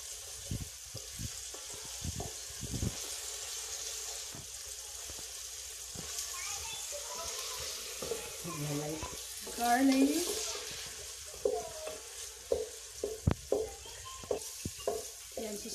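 Garlic sautéing in a hot frying pan (kawali) gives a steady sizzle with scraping and stirring clatter, while people talk nearby throughout.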